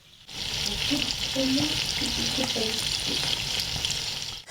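Food sizzles and fries steadily in a pan, a continuous hissing crackle with faint stirring clatter, close and fairly loud throughout with no talking.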